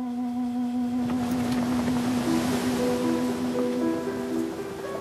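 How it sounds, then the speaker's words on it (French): Outrigger canoe out at sea off Papua New Guinea, with wind and wave wash sweeping steadily past, overlaid by sustained tonal music-like drones. "la pirogue à balancier a permis d'explorer la mer d'une nouvelle manière"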